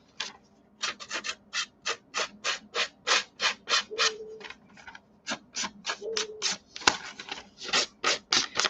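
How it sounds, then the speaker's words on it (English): Scissors scrape repeatedly along a paper edge to rough and tear it, a rapid, rhythmic series of close rasping strokes with brief pauses. "I am going to take scissors now, and this is going to be a little different because you have to be a little more gentle, but I am tearing up that edge some"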